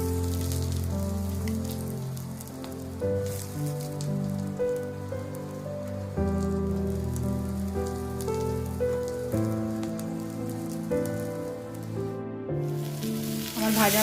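Chopped onions and capsicum frying in a pan, a dense steady sizzle running throughout with occasional stirring scrapes, close and continuous, with no talking.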